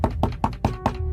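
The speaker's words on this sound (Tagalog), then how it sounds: "ang tahimik naming gabi, binasag ng isang malakas na katok sa pinto" Loud knocking on a door in a nighttime horror story, five sharp, evenly spaced raps close up with no voices over them.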